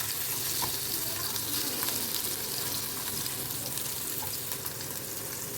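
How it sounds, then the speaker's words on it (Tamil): Marinated fish sizzles steadily in oil on a flat tawa, a continuous close frying hiss with no talking. "எடுத்து அப்படியே இதில் போட்டுடலாம் தவாவில்"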